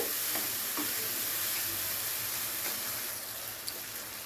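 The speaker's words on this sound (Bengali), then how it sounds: "এবারে মশলাটাকে ততক্ষণ পর্যন্ত আমাদের কষিয়ে নিতে হবে যতক্ষণে না মশলার গা থেকে তেল ছাড়তে শুরু করছে।" Spice paste (masala) frying in oil in a pan, a steady close sizzle with occasional spatula scrapes as it is stirred, fairly soft and unbroken by voices.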